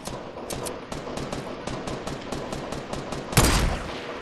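Rapid gunfire in the video game Fortnite, a steady rhythm of sharp, evenly spaced shots that ends in one louder, heavier blast near the end.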